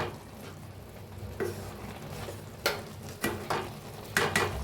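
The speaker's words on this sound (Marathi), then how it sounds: "आता दोन मिनिट झाले बघा मिक्स करून घेऊया" Carrot halwa (gajar ka halwa) stirred in a pan, giving a soft steady sizzle with a few louder scraping strokes of the spoon toward the end.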